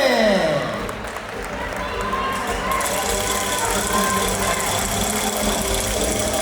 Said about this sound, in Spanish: se aplaude.